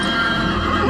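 A horse in a TV show whinnies loudly and close while hooves clatter underneath, a short, agitated burst.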